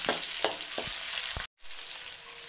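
Green chilies and halved shallots sizzle in hot oil in a pan, a steady bright crackle broken by a few soft stirring knocks and one brief dropout.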